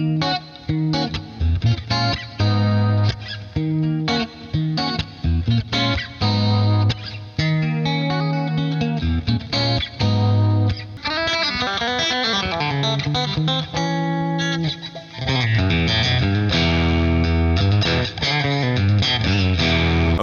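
An Ibanez AZ electric guitar plays chords and melodic runs through effects, with distortion and chorus, loud and continuous for about twenty seconds, with a brief dip and a shift of tone around the middle.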